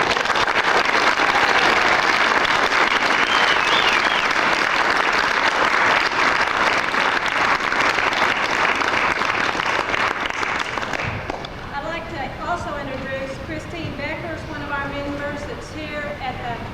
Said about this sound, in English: Please join me in a round of applause for Carol Johnson and the other members of the NSS North Texas.